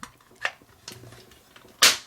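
A Transformers Galvatron toy's plastic head snaps into a tight connection with a few small clicks, ending in one sharp, close, loud snap.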